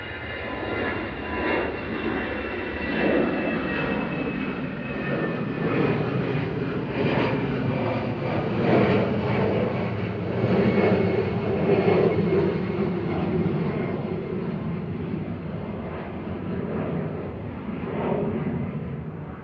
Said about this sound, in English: EasyJet departing to Amsterdam, flight 7856.